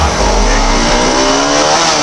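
Big sport and naked motorcycles rev hard and roar past close by in one loud, continuous burst of engine noise, with no talking.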